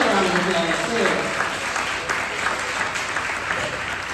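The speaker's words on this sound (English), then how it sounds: "give yourselves a round of applause and give them a round of applause too" A graduation ceremony crowd claps loudly and steadily, dense close applause with a few voices mixed in, easing slightly toward the end.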